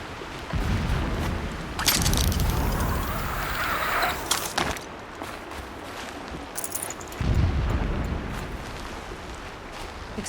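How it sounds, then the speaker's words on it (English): Deep booming blasts of distant video game explosions, from Horizon Zero Dawn, rumble in bursts with crackling noise, separated by quieter stretches of low background rumble. "Explosions in the distance."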